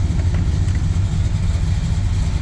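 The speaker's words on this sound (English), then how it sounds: "Go ahead and rev it up a little bit so I can hear it" A white 1965 Pontiac Tempest GTO clone with a fuel-injected 455 engine sits running nearby, its deep, steady low rumble idling with slight lifts in revs and no voices over it.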